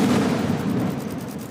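Gunfire during a Han Kuang military exercise hostage-rescue drill involving military police and police, heard as a dense, continuous rumble of shots and blasts, loud and steady with no voices.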